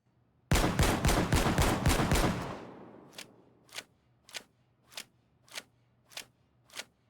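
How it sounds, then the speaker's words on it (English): In the video game Payday 2, the Deimos shotgun fires a rapid, loud burst of blasts that fades into a ringing tail, followed by seven evenly spaced single shots. "starting off with the Deimos Shotgun"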